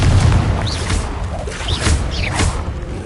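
Blasting spell explosions from the Confringo curse in a wizard duel, deep booms with swishing magical whooshes arriving several times in quick succession, loud and close.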